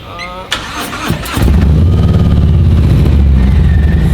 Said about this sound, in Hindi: लंबा वाला एग्जॉस्ट है, शॉर्ट ही नहीं है, इसलिए इसके अंदर बेस ज़्यादा आ रहा है